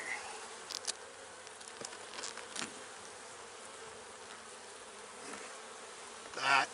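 Honeybees hum steadily at an open hive during a spring inspection, a soft continuous buzz with brief louder passes of individual bees flying close to the microphone, no talking.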